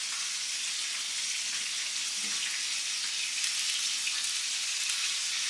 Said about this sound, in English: I ended up double frying the chicken because I like my fried chicken to be really crispy.